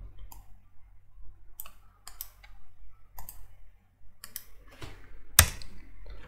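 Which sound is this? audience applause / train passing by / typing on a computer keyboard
typing on a computer keyboard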